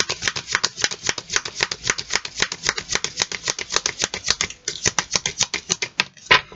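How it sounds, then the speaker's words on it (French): Tarot cards being shuffled in quick, even riffles, a close rapid rattling run of flicks that pauses briefly before a card is drawn at the end. "Laissez-moi tirer cette carte."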